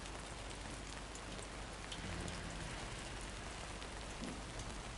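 Steady rain falls in the video game Death Stranding 2, a dense, even hiss of drops on surfaces with a faint low rumble beneath, constant and unbroken throughout.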